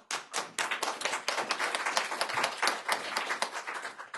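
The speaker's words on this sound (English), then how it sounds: "Applause for Yang Fucheng" Audience applause for a speaker at a panel discussion on moving the coal agenda forward, a dense, steady patter of many hands clapping at close range, sustained for about four seconds with no talking.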